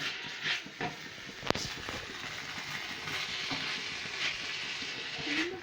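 Green beans and carrots fry in a pan for a meat pie filling, giving a steady soft sizzle with occasional scraping clinks of stirring, one sharp tap near the middle, fairly close and moderate.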